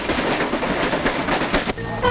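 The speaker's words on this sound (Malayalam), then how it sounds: "Train number 20 Madras mail coming from Trivandrum central is now arriving on platform number 6." The No. 20 Madras Mail from Trivandrum Central pulls into platform 6, a brief, loud, steady rumble of rolling carriages followed by a short tonal horn-like sound at the end.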